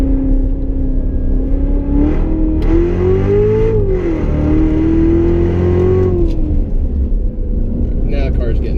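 A Chevy Corvette Z06 with the Z07 package and automatic gearbox accelerates hard around a figure-eight track, its engine note rising and falling through gear changes as a close, loud steady roar beneath faint talk.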